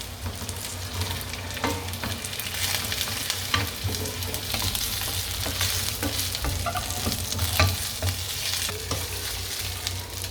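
Pieces of fried fish tossed and stir-fried in hot oil with green chillies, curry leaves and garlic for chilli fish fry, giving a steady close sizzle broken by repeated scraping and stirring clicks throughout, with no talk.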